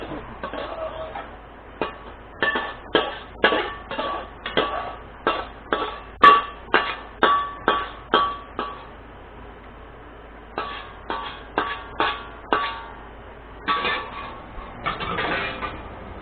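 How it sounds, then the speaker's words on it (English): Leftover stir-fry with scallion greens is scraped from the pan onto a dish in a steady run of sharp scrapes and clinks. The sounds pause midway, then resume at a close, moderate level with no talking. "Plate it."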